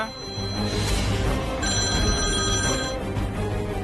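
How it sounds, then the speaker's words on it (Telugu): A telephone rings with a loud, continuous electronic trill. The sound fills the room, and no voices speak over it. "అరే భూషణం, ఫోన్ మోగుతుంది, తీసుకురా."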